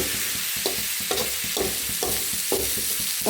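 Koorkka (Chinese potato) stir-frying in coconut oil with onion, fennel and coconut pieces: a steady sizzle broken by regular spatula scrapes and stirs about every half second, close and fairly loud, no talking.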